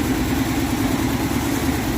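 A 1962 Dodge D200 with a semi hemi engine idles close by, holding a steady, even low rumble throughout with no other sounds.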